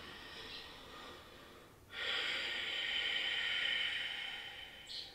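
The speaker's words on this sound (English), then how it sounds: "take a few breaths to just connect with your breath" Breathing during a seated chair yoga session, one soft breath, then a long, steady, hissing inhale through the nose, faint and close with no talking.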